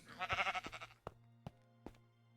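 Sheep bleating in a crafting video game: one wavering bleat at the start, followed by a few short sharp game clicks over a low steady hum, with no talking.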